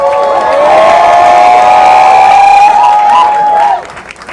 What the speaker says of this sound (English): Give a round of applause for Coco Sarai.